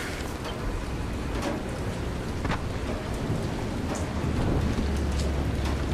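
Steady heavy rain pours in the Dying Light video game, a dense continuous hiss with a few sharper crackles like distant thunder rolling through, with no talking.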